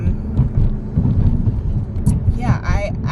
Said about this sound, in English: I'm driving to pick it up